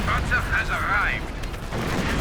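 Maxim machine gun in Company of Heroes 2 firing a sustained rattling burst, mixed with distant battlefield fire and an overlapping voice near the start.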